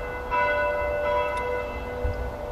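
Church bells ring with a sustained metallic tone in a Danish Christmas setting, clear and moderately loud, with soft swells of striking across a couple of seconds and no talking.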